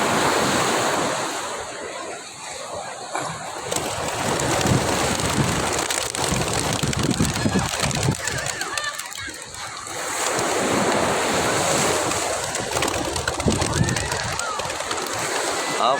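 Racing pigeons released by the sea: bursts of flapping wings rise over loud, continuous surf and wind, swelling and fading in waves across the whole stretch.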